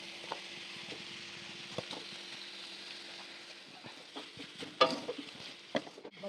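Jaggery frying in a pan while being stirred for a sour-spicy-sweet chalta (elephant apple) pickle, a steady soft sizzle with scattered scraping clicks of the spoon, moderately quiet and without talk.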